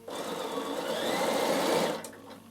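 A Bernina sewing machine stitching fabric at steady speed, a continuous close whirring hum with a rapid needle clatter running for about two seconds before stopping abruptly.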